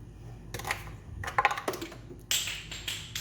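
Oil filler cap being removed from a 2016 Outlander GT engine: a few sharp plastic taps and clicks, then a brief scrape and a brighter rustle near the end, all close and fairly quiet.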